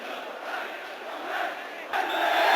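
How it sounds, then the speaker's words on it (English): Oxford football fans in a stadium cheering and chanting at half time of a 1984 Milk Cup third-round match against Arsenal, a broad distant crowd roar that swells louder toward the end. "the Oxford fans are cheering again"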